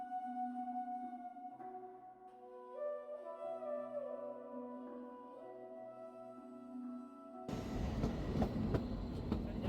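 Train travelling along tracks toward Shimla in the Himalayan foothills: soft melodic tones give way to a sudden burst of loud, rumbling rail noise for the last couple of seconds.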